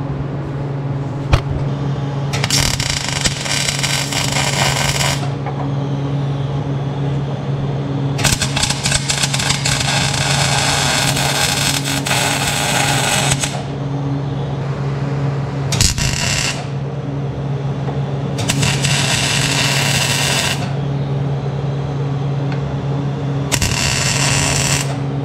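Tack welding a custom motor mount on a Pinto during an engine swap: several bursts of harsh crackling arc lasting a few seconds each, separated by pauses, over a steady electrical hum.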